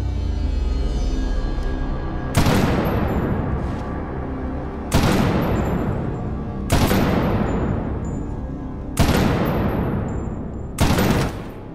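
Gunfire in the Medal of Honor Warfighter video game: five loud, heavy blasts spaced a couple of seconds apart, each decaying into a long rumbling tail over a continuous low background, with no talking.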